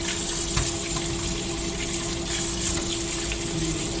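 Large tomatoes washed one by one under a running tap in a kitchen sink, a continuous close rush of water with a slight splash early on and a faint steady hum beneath.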